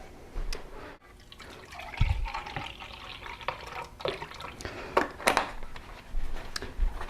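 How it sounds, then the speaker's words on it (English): Milk is poured in small splashes into a bowl of oiled flour for cheese biscuits, with irregular liquid gurgles, drips and light mixing clatter close by, no talking. "Now I'm going to add the milk"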